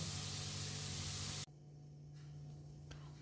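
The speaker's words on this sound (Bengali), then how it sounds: "আমি এইভাবে ভেজে নিচ্ছি, তুলে নিচ্ছি" Wheat biscuits made from atta frying in hot oil, a dense steady hiss and sizzle that cuts off abruptly partway, leaving a quieter, softer frying hiss with a faint clink near the end.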